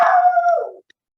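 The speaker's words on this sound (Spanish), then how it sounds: "creo que por aquí hay algún perro de fondo" A dog in the background gives a single drawn-out howling whine of just under a second, fairly clear and alone, trailing off downward before silence.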